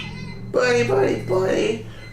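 A house cat meows up close, giving two or three drawn-out, rising and falling cries in quick succession.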